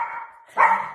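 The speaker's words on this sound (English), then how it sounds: "I've got Cheryl's dogs here. So you can hear Lexi and Gussie" Two pet dogs barking indoors at home, a sustained whine followed by a loud, close bark that rings out briefly.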